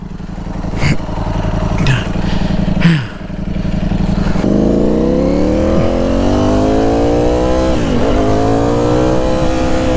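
Ducati Streetfighter V4 S fitted with an SC Project titanium exhaust, with a few sharp blips at first, then one long rising rev that climbs steadily and dips near the end, loud and close with no talk.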